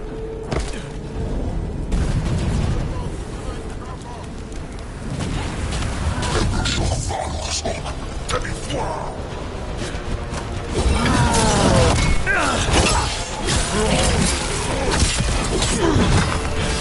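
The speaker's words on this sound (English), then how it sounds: "Cannon fire! Get clear!" Cannon fire in Dragon Age: The Veilguard booms repeatedly amid crashing, shattering debris and battle noise, with voices heard in the chaos.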